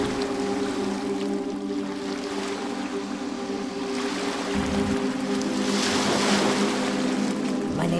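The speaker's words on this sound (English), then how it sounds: "My favorite sound on Gabriel Island is the waves crashing on Melsmina galleries." Waves crash against the sandstone shore rocks of the Malaspina Galleries on Gabriola Island, a steady close wash of surf that swells louder toward the end. A low engine-like hum runs underneath.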